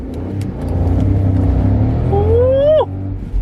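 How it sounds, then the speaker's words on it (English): A Volkswagen Polo TSI hot hatch with a manual gearbox idles loudly and close to the microphone. A rising whine sweeps up and then cuts off sharply near the end, over a constant low engine rumble. "So let me just start the car."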